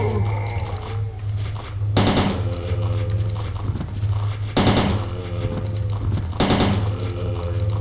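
Gunfire in the zombie game Resident Evil 2, rapid automatic bursts repeating in several loud clusters over a low droning background, with no talking.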